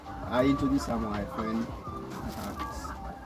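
Chickens cluck and chatter throughout a busy poultry farm of several hundred birds, steady and fairly close, while someone talks over them.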